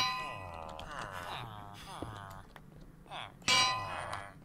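A bell clangs in a video game, a few bright metallic strikes under someone talking in Dutch.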